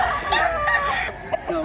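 A rooster at a Cebu market gives a short, close crow with clucking mixed in, set against steady crowd murmur.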